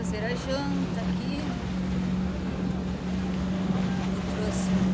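A boat passes along a maritime canal with a steady low engine drone and water wash, while a voice talks over the continuous rumble.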